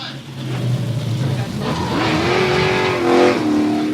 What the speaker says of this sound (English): He's going to light him up. There you go. A good burnout for the fans.